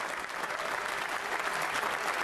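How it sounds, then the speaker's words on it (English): A standing ovation fills the House of Commons, with steady, dense applause from many people heard from a distance as an even wash of clapping and no break. "There is a standing ovation in the House of Commons."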